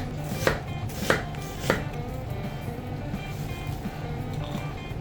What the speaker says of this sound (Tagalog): Hiniwa ko lang ang sibuyas ng ganito kanipis.